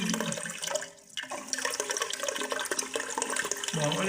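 Water gushes and splashes steadily into a newly installed toilet being filled during a bathroom plumbing fit-out, a loud close rushing flow with a short lull before it resumes.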